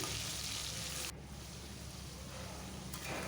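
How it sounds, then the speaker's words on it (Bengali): Potato pieces frying in hot oil with salt and turmeric, a soft steady sizzle up close that drops slightly partway through, with no talking. "2 মিনিটের মতন ভেজে নিচ্ছি"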